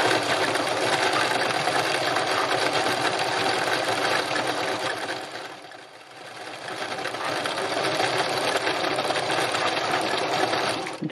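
A sewing machine runs short bursts of stitching across fabric, its fast mechanical whirr loud and close, easing off briefly midway before picking back up.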